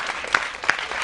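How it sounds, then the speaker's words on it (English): A brief burst of audience clapping at a dialogue event honoring Mandela's legacy, with scattered individual claps standing out over a soft crowd murmur. "I think we must maybe clap hands for them again."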